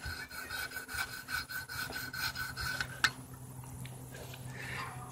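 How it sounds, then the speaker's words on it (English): A knife blade swiped on fine sharpening stones, giving a series of soft, rhythmic scraping strokes about every quarter second, close and quiet, with one sharper click partway through and no talk. "Take a couple swipes. You want to use your fine stones until you find where the bevel is actually at."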